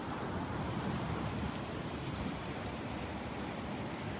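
Rain falls at Delnor-Wiggins beach on a cloudy morning, a dense steady hiss mixed with low rumbling surf or wind, even and moderately loud throughout with no voices.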